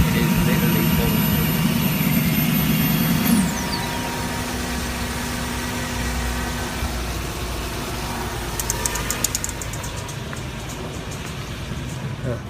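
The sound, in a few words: car engine running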